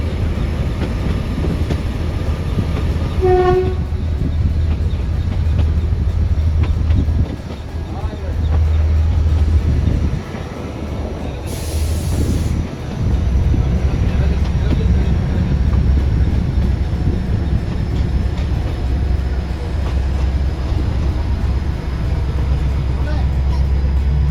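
An Indian Railways UNESCO world heritage train pulls into Baijnath Paprola station with a steady low rumble and clatter, briefly easing midway. People talk over it and a short whistle-like tone sounds near the start.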